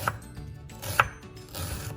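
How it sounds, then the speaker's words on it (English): A knife cuts onions lengthwise on a board for Goan egg patties: a few sharp, separate chopping knocks, close and clear, with quiet kitchen room tone between them. "we can start cutting our onions and get ready"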